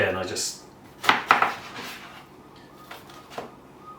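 Knife topping an aubergine on a chopping board in a kitchen while making ratatouille: a few sharp clicks and taps of the blade against the board, with a voice speaking faintly in the background.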